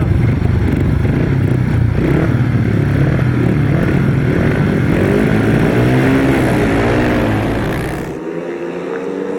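Grasstrack racing motorcycles roar off the start together at a race meeting, a loud sustained massed engine howl that shifts in pitch as they pull away, then drops off near the end.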